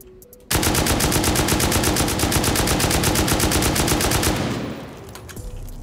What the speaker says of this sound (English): We'll finish these out with Explo.